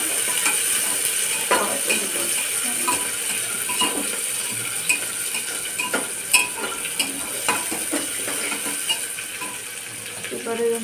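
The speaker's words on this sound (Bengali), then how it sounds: "এখানে কাঁচা লঙ্কা দিয়ে দিল, পেঁয়াজ কুচি, এটাকে হালকা নাড়াচাড়া করে" Green chili and chopped onion fry in a pan and are stirred, making a continuous sizzle with repeated scraping and clattering strokes of the spoon against the metal, close and fairly loud, with no talking.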